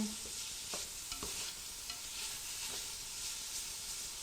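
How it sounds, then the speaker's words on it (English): Winter greens brown in a pan while being stirred, the browned bits scraped from the bottom. Quiet sizzling runs under a few distinct scraping strokes, heard close and without talk. "Move the brown bits from the bottom, stir it"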